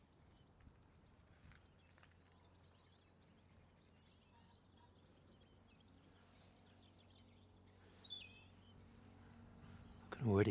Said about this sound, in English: I can already hear a yellowhammer.